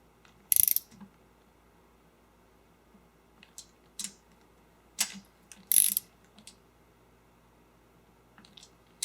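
A 3/8-inch torque wrench clicks sharply at its set point, with a few distinct, fairly quiet ratcheting clicks spaced a second or two apart against a near-silent workshop background, during an aircraft engine build.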